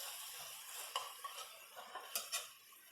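Metal utensil scraping and stirring in a Blue Diamond pan, with faint clinks and scrapes over a soft sizzle and no talking.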